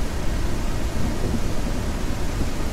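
A steady roar of storm noise in Ranch Simulator, rain and rumbling thunder blending into a constant, loud wash with no pauses or distinct claps.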